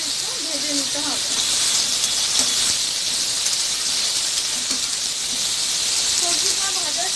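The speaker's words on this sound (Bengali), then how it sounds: "সবজিটা দিয়ে ভালো মতো একটু ভেজে নিতে হবে।" Vegetables frying in a pan for a Bengali fish, potato and eggplant curry, giving a steady, close hiss and sizzle throughout with faint clinks now and then.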